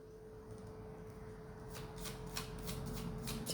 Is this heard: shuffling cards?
yes